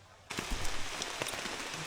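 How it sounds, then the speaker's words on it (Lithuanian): Heavy rain starts suddenly and pours steadily, a dense hiss of drops drumming on a nearby surface. "Lyja stipriai"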